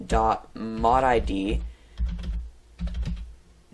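Someone types on a computer keyboard, producing quick light clicks close to the mic, while a voice speaks over the first half and sparse key taps follow alone.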